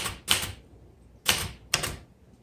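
Keys strike on a 1966 Royal Safari vintage manual typewriter in three crisp, clacking bursts, close and isolated, with quiet pauses between them.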